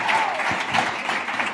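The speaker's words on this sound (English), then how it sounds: "Please join me in giving a round of applause to our speakers." Audience applause for the speakers at a business policy event on government ambition, a steady wash of many hands clapping that fills the whole stretch at an even, moderate level.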